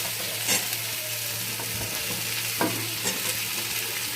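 Drumstick vegetable frying for shukto, with salt, turmeric and jaggery in the pan: a steady close sizzle with occasional stirring scrapes, continuous and fairly loud, no talk.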